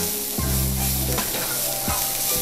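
Bacon sizzles steadily in a pan, a constant crackling hiss with a couple of clattering utensil knocks over a low hum, no voices.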